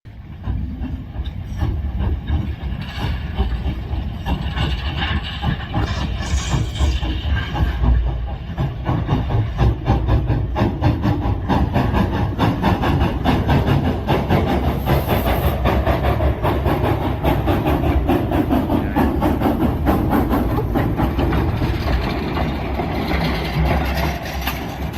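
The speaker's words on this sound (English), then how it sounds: "this is a historic steel mill engine preserved at a museum in Ohio" Historic steel mill locomotive preserved at an Ohio museum, running with a heavy low rumble and rhythmic clanking and hiss, loud and close, continuous throughout.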